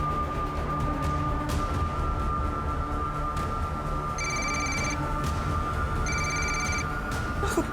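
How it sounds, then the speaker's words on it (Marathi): A mobile phone rings in two short bursts of electronic trills, clear against a steady background hum and a constant tone, during a tense police search. "किरणचा फोन आहे।"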